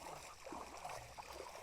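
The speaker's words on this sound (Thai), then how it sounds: "แบบนี้น้ำไหลตลอดเลย" Water running steadily along a rice-field channel, a soft continuous trickling and gurgling flow heard alone at low level.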